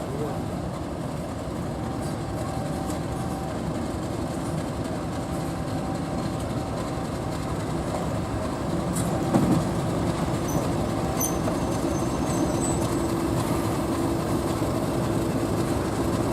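Class 50 diesel locomotive 50026 on the Severn Valley Railway, its engine giving a steady low rumble with rail noise and occasional faint squeals, continuous and moderately distant.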